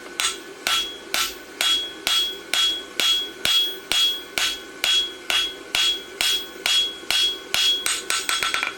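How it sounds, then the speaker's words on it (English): A blacksmith strikes steel on an anvil with the flat side of a hammer, drawing out a clip on a horseshoe, a steady run of about twenty ringing close blows that quicken into a rapid flurry at the end. "I'm using the flat side of my hammer, and I want to get the base established."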